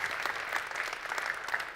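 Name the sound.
audience applause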